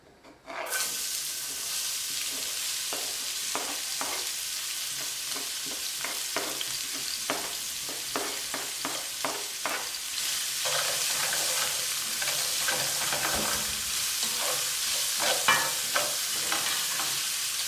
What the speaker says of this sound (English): So we just want to sweat the onions, we're not browning them.